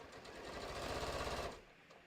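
A sewing machine stitching fabric for a bucket hat, a brief, quiet burst of rapid whirring that lasts about a second and a half, then stops.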